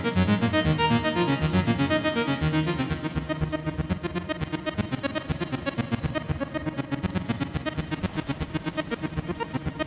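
Sequenced synth brass from the GForce AXXESS synth plays as bright, stacked chords that shift into a rapid pulsing repeated pattern, steady and fairly loud with no voices.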